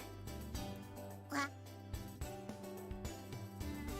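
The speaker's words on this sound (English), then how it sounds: "a duck came walking into the dining hall." A duck quacks once, briefly and clearly, over steady background music in the If My Heart Had Wings visual novel, with no talk.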